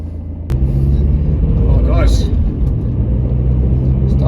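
Low, steady engine and road rumble heard from inside a lowered BMW E46 on a smooth road, rising sharply after a brief quiet start and holding a constant drone with a faint tonal sweep midway.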